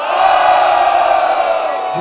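A crowd at a freestyle rap battle, a first-round matchup at Batalha da Aldeia, roars and cheers in one loud, continuous, blended shout that holds steady throughout.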